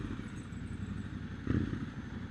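A Triumph Scrambler 1200 XC, a 1200cc motorcycle fitted with an Arrow exhaust, hums along the road as a steady low engine drone heard from the rider's position, swelling briefly halfway through.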